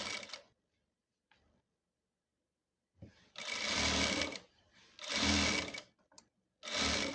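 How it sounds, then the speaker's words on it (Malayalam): A sewing machine stitches the lining of a churidhar in three loud bursts of rapid whirring after a quiet stretch with a couple of faint clicks. "ഇവിടെ നമ്മൾ തയ്ക്കുക."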